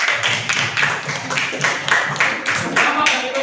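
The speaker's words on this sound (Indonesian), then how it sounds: "Tepuk tangan semuanya." A room of people claps after a group presentation at a teacher-training assessment, producing a loud, steady patter of many hands with rhythmic swells that keeps going without a pause.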